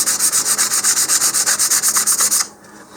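Sandpaper rubbed back and forth on a model rocket nose cone, with rapid, even scratchy strokes about eight per second, loud and close for over two seconds before stopping.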